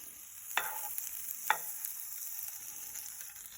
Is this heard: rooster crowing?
no